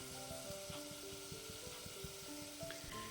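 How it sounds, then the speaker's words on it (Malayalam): Chilli and turmeric powder fry in a hot pan for a green gram curry, a steady close sizzle broken by regular scraping knocks of a spoon stirring, with no talk. "ഇനി നല്ലവണ്ണം ഒന്ന് പൊടിയൊന്ന് ചൂടാവട്ടെ, ഒന്ന് ഇളക്കിയെടുത്താൽ മതി"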